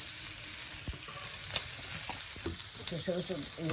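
Onion and green chilli frying in hot oil for a Bengali fish dish, a steady close sizzle with occasional stirring clinks and scrapes throughout, no talk.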